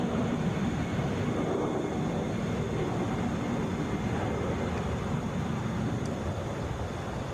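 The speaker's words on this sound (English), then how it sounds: "This is Delta 2505, headed to Detroit, Boeing 757." A Delta Boeing 757 at Atlanta airport gives a continuous low, rumbling jet-engine drone, steady and fairly loud, with no voices present.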